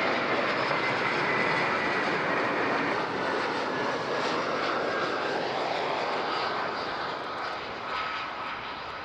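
An airliner landing on runway 14 at Zurich Airport gives a loud, steady, close jet roar that fills the whole stretch and eases only slightly near the end, with no voices.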